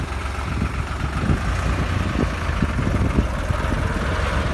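A New Holland 3630 Deluxe tractor engine works under load pulling a plough through a field, a steady, continuous mid-low diesel drone at close range with no talk over it.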